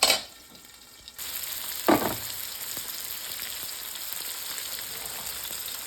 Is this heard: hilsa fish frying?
yes